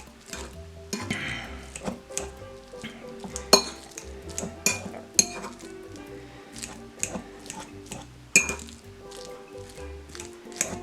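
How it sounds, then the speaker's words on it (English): A fork mashes perfectly ripe avocados into guacamole, making soft wet squishing and scraping with frequent sharp clinks of metal against the bowl in an uneven, busy rhythm, close and steady throughout. "all you need now is a fork to mash these up"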